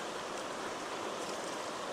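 Steady broadband rush of a river flowing in the coastal mountains of southwest Oregon, constant and fairly loud throughout, with no speech.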